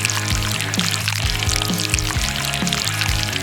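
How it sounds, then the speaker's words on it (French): Melted red chocolate poured over a cake, a continuous thick pouring sound with soft splashes and a few knocks, close and fairly loud, with no talk. "la faire fondre et la verser sur le gâteau"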